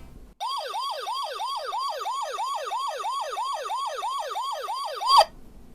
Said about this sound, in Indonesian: Kita pengen lihat seberapa besar suara siren ini guys.